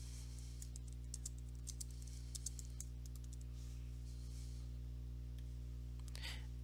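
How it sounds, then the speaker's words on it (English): Soft keystrokes typing an email subject line in Gmail, light scattered clicks over a steady low hum, with a faint burst of taps toward the end. "Type in your subject."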